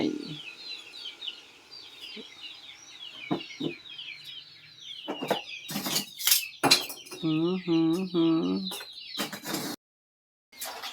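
Chickens clucking and a rooster calling at a chicken coop by a pond, mixed with chirping birds and clattering sounds, with faint voices in the background.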